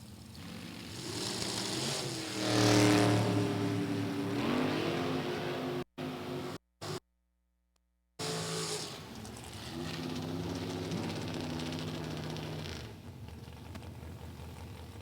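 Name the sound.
drag racing car run at Route 66 Raceway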